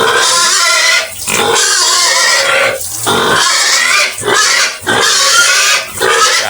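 A pig being bathed with soap squeals loudly and close in long, shrill bursts, separated by brief gaps, with no talking over it.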